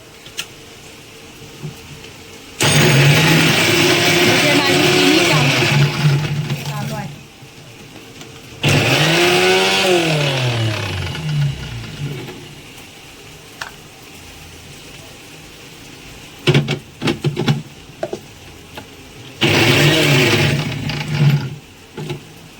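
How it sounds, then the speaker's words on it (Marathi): A kitchen mixer grinder grinds a coarse masala paste for Maharashtrian masvadi filling in three loud bursts of whirring motor, each rising and shifting in pitch, with quieter pauses and clatter between them. "हे बघा इकडं मिक्सर पण लावून घेते"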